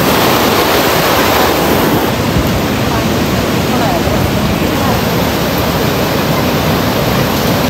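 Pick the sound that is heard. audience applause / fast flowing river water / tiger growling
fast flowing river water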